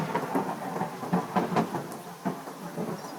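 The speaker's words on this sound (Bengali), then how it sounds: "সেই রাতে ভয়ানক ঝড় বৃষ্টি আসে।" A thunderstorm with heavy rain, playing as a sound effect in a told story: a dense, steady wash of rainfall with low rumbling thunder swells, fairly close and full, with no voices.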